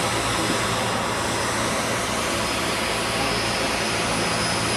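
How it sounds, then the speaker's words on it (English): A belt-driven motor fan on a cooling tower runs steadily nearby, giving a loud, even broadband whir with a low rumble and a faint high whine, unbroken throughout. "This is the motor. It is a belt-driven motor fan."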